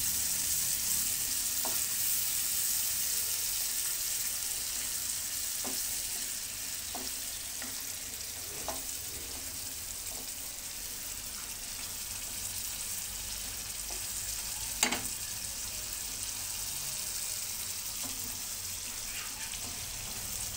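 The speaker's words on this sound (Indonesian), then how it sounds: "Kita tumis sampai wangi." Spice paste for Indonesian chicken soto sizzles in hot oil, a steady close frying hiss with occasional soft taps of a stirring utensil, no talk.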